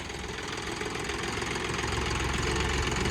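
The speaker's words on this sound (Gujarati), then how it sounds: "આ આપણે ટ્રેક્ટર છે અને નવા બગડાનું ટેસ્ટિંગ કરવા આવ્યા છીએ" A tractor engine runs steadily with a knocking, idling chug while a new implement is tested on a village field, close and continuous with a slight rise in loudness.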